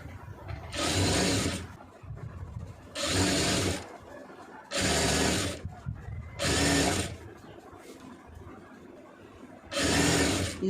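A sewing machine stitches a folded main fabric piece along a blouse neckline, running in five close, loud bursts of rapid whirring, each about a second long, separated by short pauses.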